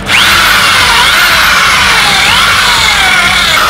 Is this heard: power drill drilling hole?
yes